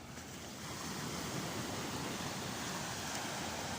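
Ocean waves break on the shore where fishing lines enter the water during cod fishing, a loud, steady rush of surf with wind noise and no distinct individual crashes.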